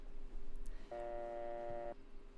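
A telephone is dialed in the game Martha is Dead, with a steady tone lasting about a second after a faint click, clear against quiet background hum.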